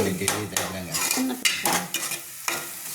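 A utensil stirs masala through country chicken curry in a pot, giving repeated scraping strokes and metallic clinks against the vessel over a soft sizzle, close and clear with no voices.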